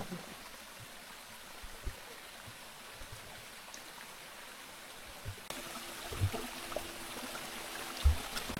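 A steady, soft rush of a waterfall stream, the Rajai waterfall in Bangladesh, with occasional faint knocks and bumps closer by.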